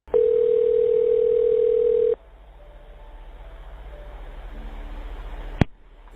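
A steady telephone line tone from a recorded 911 emergency call holds loud and even for about two seconds, then cuts to quiet line hiss with faint tonal traces and a sharp click near the end.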